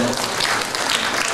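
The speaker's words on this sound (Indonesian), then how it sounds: "tepuk tangan sekali lagi" Audience applause at a wayang performance in a wayang museum, a short burst of thick, close clapping from a seated crowd.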